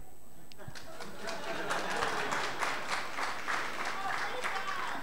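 Comedy club audience at a Manchester stand-up night breaks into applause, a dense wash of clapping that swells and holds steady, mixed with crowd noise.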